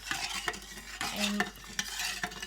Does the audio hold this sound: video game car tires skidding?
no